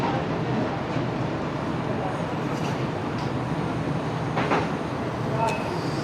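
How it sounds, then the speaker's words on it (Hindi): Shalimar Express passenger train pulling out of Rori Junction, heard from inside an AC coach as a steady low rumble and rolling hum throughout, with faint clanks and a brief squeal near the end. "ट्रेन हमारी रोड़ी जंक्शन से रवाना हो रही है"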